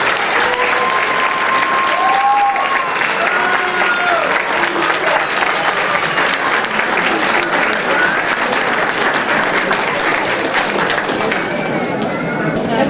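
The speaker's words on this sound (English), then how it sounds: "Please give Shahana a big round of applause" An audience at an Eid event claps loudly and steadily for a long stretch, a thick wash of applause with scattered voices and cheers mixed in.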